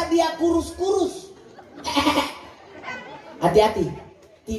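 A voice imitates a goat bleating, with wavering nasal cries that rise and fall in several bursts, delivered loud and close amid crowd chatter and laughter.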